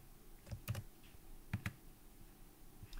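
Quiet typing on a computer keyboard, a few separate clicky keystrokes in small clusters, close and faint with no talk over them.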